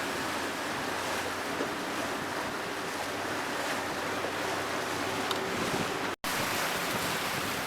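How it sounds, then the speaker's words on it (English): Fletcher Arrowflash 15 motorboat crossing big seas off Hayling Bay: steady, loud roar of surf and wind noise with rushing water throughout, briefly cutting out near the end. "driving around the waves to get through some pretty big seas there"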